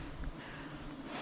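Bees from a new honeybee colony swarm around a hive, making a steady, continuous droning buzz that stays even and fairly loud throughout.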